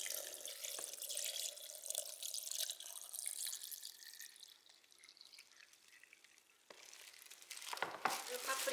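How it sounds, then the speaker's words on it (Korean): Homemade red paprika water kimchi broth is poured into a kimchi jar, a soft, steady liquid trickle and splash that pauses briefly, then resumes, faint and close with no voices. "같이 만들어 본 국물을 이렇게 김치병에 부어 보겠습니다"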